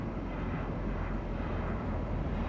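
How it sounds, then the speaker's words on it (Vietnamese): A large airplane passes overhead, heard from an open-top BMW Z4 on the road, as a steady, broad, moderately loud roar that holds without a break. "Ô máy bay to quá kìa"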